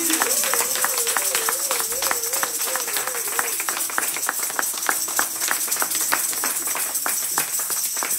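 A church congregation claps continuously together for a pastor, a dense and steady wash of many hands that runs throughout, with a sung or hummed voice wavering over the first few seconds.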